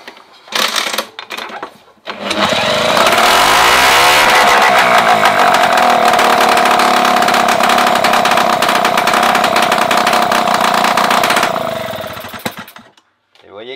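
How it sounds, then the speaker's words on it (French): A small engine fitted with a new carburettor starts up, then runs at a steady, high, buzzing idle for several seconds before cutting off, loud and close. "Le moteur tourne bien mieux."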